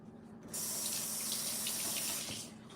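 Liquid pours steadily into a jar for about two seconds in a quiet kitchen, a continuous close splashing stream that starts abruptly and tapers off at the end.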